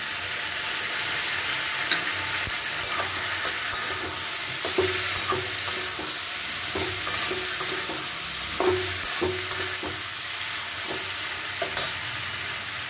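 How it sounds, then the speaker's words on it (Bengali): Cashew-almond paste goes into a frying masala for a potato and pointed gourd dalna, with a constant sizzle under repeated spoon scrapes and taps against the pan while stirring. "এবার আমি কাজু আমন্ড বাটাটা এর মধ্যে দিয়ে দিলাম।"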